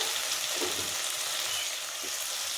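A ginger, garlic and chili spice paste hits tempered oil in a home kitchen pan, giving a steady, close hiss of frying that holds evenly throughout with no talk.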